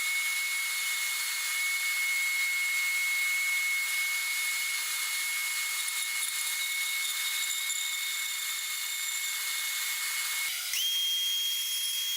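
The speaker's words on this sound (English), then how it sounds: "I drew a curve and cut it out on the bandsaw." A bandsaw cuts curved walnut mallet handles in a woodshop, a steady close blade whine running alone throughout, pitch shifting briefly near the end as the cut finishes.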